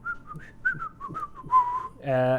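A person imitates someone whistling idly to themselves, with a string of short, wavering, fairly soft notes followed by a brief voiced hum at the end.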